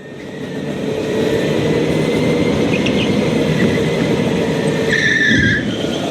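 Go-kart tires skid and scrub without traction during a race, a steady loud engine-and-tire roar running throughout with a brief higher squeal near the end.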